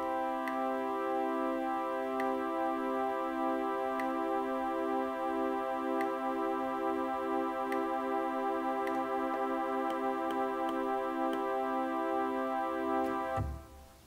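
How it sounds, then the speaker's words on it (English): Detuned pipe organ celeste stop holding a sustained chord, the steady tone pulsing with a beating that grows gradually faster, even and alone before cutting off abruptly near the end. "as we increase the value, you'll hear that the beat frequency increases"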